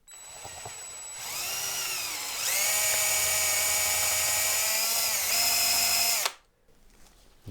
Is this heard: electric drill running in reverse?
yes